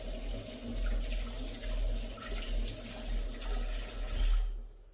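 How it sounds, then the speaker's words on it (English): Water runs steadily from a kitchen tap while hands are washed beneath it, a continuous close splashing hiss that cuts off abruptly near the end. "So hands a wee wash."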